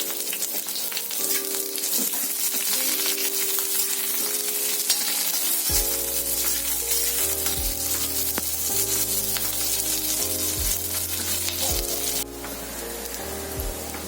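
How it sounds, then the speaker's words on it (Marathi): Sliced onion frying in hot oil while it browns for a Marathi egg curry, a steady close sizzle with faint crackles, under a soft musical backing with no talk. "आता आपण त्यामध्ये एक उभा चिरलेला कांदा घालूयात, तो पण चांगला ब्राऊन होऊन द्यायचा आहे"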